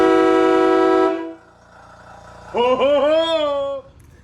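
Custom train horns fitted to a Gator utility vehicle blare close and loud: one long steady blast, a short pause, then a second slightly wavering blast that cuts off abruptly.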